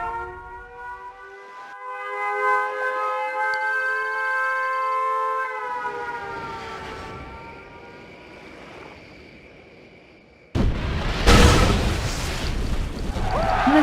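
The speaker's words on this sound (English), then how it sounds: "Warning! Nuclear missile launched." Nuclear missile explosion in the video game Red Alert 2: Yuri's Revenge, a loud wailing warning siren holding and fading, then a sudden massive roaring blast with rumbling debris that stays loud to the end.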